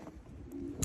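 Racing pigeons coo softly in their loft on a freezing day, a brief, low, murmuring coo close by with faint background noise.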